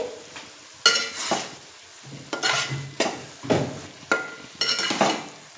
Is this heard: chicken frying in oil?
yes